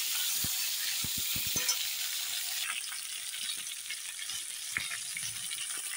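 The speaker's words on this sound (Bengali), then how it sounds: "এখন আমি বেগুনটা ভেজে নিই" Eggplant pieces fry in oil with a steady, close crackling sizzle, a few sharp pops near the start, continuing evenly throughout with no talking.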